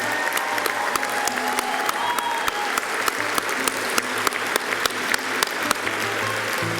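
A graduation ceremony audience applauds pilot graduates of a college flight program, with steady hand clapping and a few sharper individual claps standing out over the sustained crowd sound.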